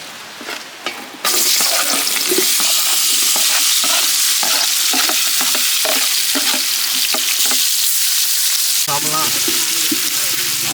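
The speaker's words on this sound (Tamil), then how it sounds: "மீன் சம்பலுக்கு தேவையான எண்ணெய் ஊற்றிக்கலாம். வெங்காயத்தை சேர்த்துக்கலாம்." Onions hit hot oil in a village-style pan for fish sambal, jumping from a brief quiet start into a loud, steady close sizzle with repeated stirring clatter and scraping throughout.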